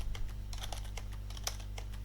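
Keys on a computer keyboard tapped repeatedly, including the Tab key, while moving through a table in a word processor; a quick irregular run of light clicks over a low steady hum, close and fairly quiet.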